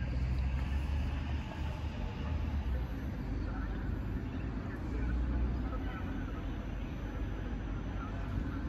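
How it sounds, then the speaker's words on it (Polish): A train passes near Warszawa Rembertów station in Poland, giving a steady, loud low rumble that holds throughout without clear breaks. "Tutaj mamy jakiś pociąg, który jedzie."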